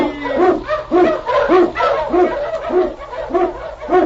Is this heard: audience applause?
no